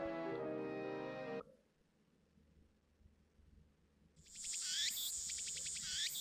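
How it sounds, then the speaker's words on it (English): Cicadas buzz in a summer scene from a video game, a loud shrill pulsing drone that comes in after a brief musical tone and a quiet stretch. "The buzzing of the cicadas."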